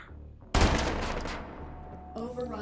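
A Tech 9 fires a rapid burst of gunshots in the VR game Hot Dogs, Horseshoes & Hand Grenades, a sudden loud close rattle that decays over a second before a voice briefly speaks.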